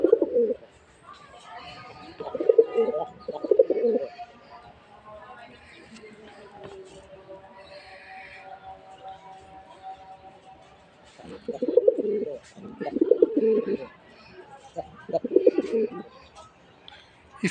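A pair of Rajgolla pigeons, red-eyed male and female, coo in several low, throaty bursts, the calls clustered at the start and end with quieter gaps between, close and clear.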